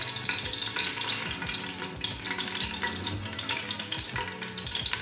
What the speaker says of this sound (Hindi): थोड़ा सा मसालों को ऑयल के अंदर फ्राई करेंगे ताकि इसका फ्लेवर आ जाए।